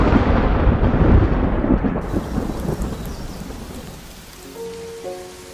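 Heavy rain with rolling thunder on the Serengeti: a loud, dense roar and rumble that gradually eases into softer, steadier rainfall.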